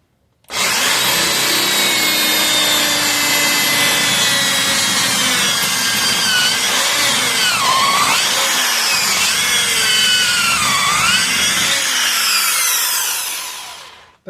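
An old but well-sharpened 8 mm drill bit bores into wood with a loud, close, continuous grinding whine, the pitch dipping twice as the bit bites deeper, then stopping abruptly near the end.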